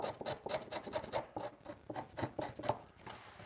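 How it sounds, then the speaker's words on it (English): Wooden edges being scraped out by hand in a home workshop, a steady run of short, close rasping strokes in quick rhythm with brief pauses between bursts. "So we're just scraping these edges out"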